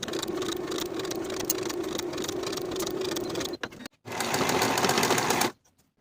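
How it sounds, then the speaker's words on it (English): A sewing machine runs steadily at close range while stitching the underarm seam of a sleeve on a peplum top, pausing briefly before a second fast burst that ends abruptly; no voices. "Sew this underarm seam with a 3/8 inch seam allowance and finish the raw edges together"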